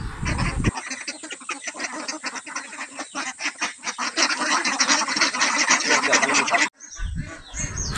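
Ducks quack loudly in a dense, continuous chorus as they crowd around their feed. The racket cuts off abruptly near the end.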